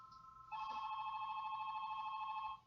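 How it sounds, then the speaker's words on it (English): A telephone rings with a steady electronic double-tone trill, starting half a second in and holding loud and clear for about two seconds over a quiet background, with no talking. "Oh, there's a phone call."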